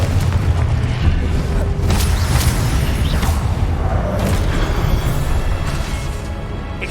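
A Confringo blasting spell explodes in Hogwarts Legacy amid dense, continuous booming game combat, loud and close, with rumbling blasts and whooshes overlapping throughout.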